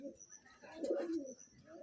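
Madrasi pigeons of an old bloodline at a loft, giving a soft, low cooing burst that swells in the middle of the short stretch, close by.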